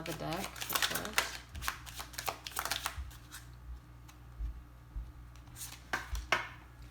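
A deck of tarot cards is shuffled close up in quick, repeated riffling bursts and soft slaps, while a voice talks quietly over the shuffling throughout.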